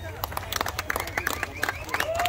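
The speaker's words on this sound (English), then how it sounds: "Give yourselves a round of applause." A crowd at a Labor Day farm party applauds, with a scattered patter of claps and some chatter, moderately distant and fairly quiet.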